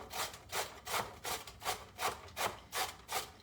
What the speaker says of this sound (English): So you just rub it up and down.